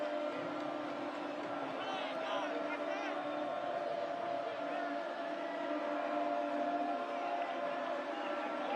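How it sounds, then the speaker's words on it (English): Crowd noise at a high school football game on an evening in Johnson County, a steady broad murmur of many voices filling the stands, continuous and fairly loud throughout with no single voice standing out. "Crowd making a lot of noise."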